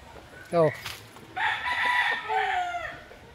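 Roosters crowing at a Barangay Masaya poultry yard in Rosario, Batangas: one sharp short crow, then a longer drawn-out crow with a second bird overlapping, fairly close.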